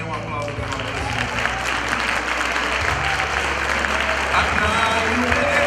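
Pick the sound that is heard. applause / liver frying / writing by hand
applause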